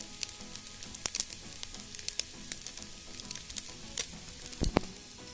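Rice with soaked cashews and raisins fried in a rice cooker for veg fried rice, a soft continuous sizzle with frequent small clicks and scrapes of stirring, close and quiet, no speech.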